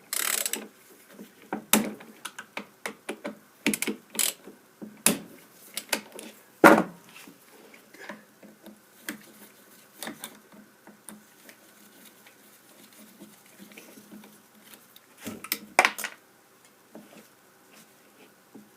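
Small, fragile screws being unscrewed while a Bosch pump is taken apart: sparse, sharp clicks and light metallic ticks, close and fairly quiet, coming in irregular bursts with no talking.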